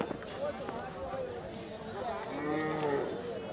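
Sahiwal cow mooing at a cattle market in Hathazari, with several drawn-out moos and other livestock mixed with busy crowd chatter and people talking close by.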